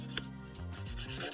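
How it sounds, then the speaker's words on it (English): A 150 grit file rasps across the smile line of an extra long Russian almond gel nail in quick, close, steady back-and-forth strokes, with no talking. "And then we're going to file this smile line."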